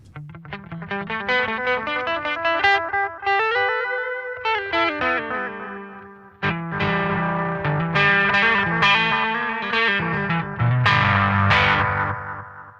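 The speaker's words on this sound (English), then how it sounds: "Let's hear it with some dirt now." Distorted electric guitar notes and chords through an Aqua Puss analog delay pedal, short slapback echoes trailing each phrase, gritty and loud, played continuously without any voices.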